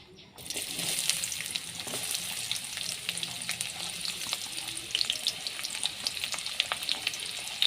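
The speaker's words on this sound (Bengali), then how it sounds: "তেলটা গরম হয়ে গিয়েছে, আমি পেঁয়াজ মরিচগুলো দিয়ে দিব।" Onions and chillies hit hot oil and burst into a loud, steady sizzle that keeps crackling and popping throughout, with no voices over it.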